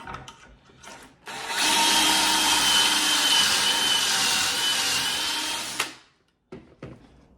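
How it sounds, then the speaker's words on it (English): A power drill boring pocket holes into a wooden board: one sustained, close, loud whirring whine lasting about four and a half seconds, which then stops abruptly, with brief quieter handling noises before and after. "right now we gotta do our pocket holes on the side"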